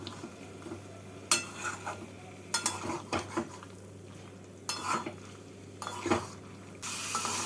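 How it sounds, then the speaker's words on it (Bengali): Prawns are stirred into frying masala for prawn vindaloo, with a metal utensil scraping and clattering against the pan in irregular bursts over a faint, steady sizzle and a low background hum. "এবার মাছগুলোকে এই সমস্ত কিছুর সাথে এক মিনিট মতো নাড়াচাড়া করে নেবো"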